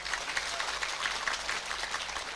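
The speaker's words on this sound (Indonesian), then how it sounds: "Tepuk tangan untuk Pak Polisi." Steady applause from a large congregation at a mosque religious gathering, clapping for the police, a continuous even patter heard at moderate distance without talk over it.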